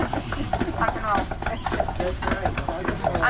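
Horse hooves clip-clop steadily as a carriage rolls along on a Mackinac Island tour, with a voice talking over the rhythmic clopping.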